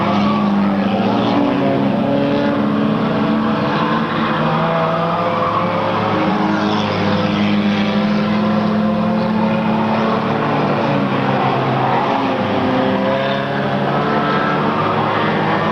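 Race cars roar around a short track in a 1998 race, a dense, continuous engine drone with overlapping passes rising and falling at steady loudness and no break for the full stretch.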